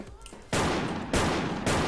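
Gunfire in a video game, heard as three sudden loud bursts that start abruptly about half a second apart, each a dense roaring blast that stays loud after it hits.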